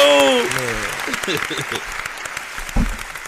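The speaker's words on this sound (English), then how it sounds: "Round of applause one time, man" Crowd applause during a live stream broadcast with a G-Money and JoJo Capone shout-out, a dense wash of clapping that rises under a voice at the start and keeps going steadily with a louder thump near the end.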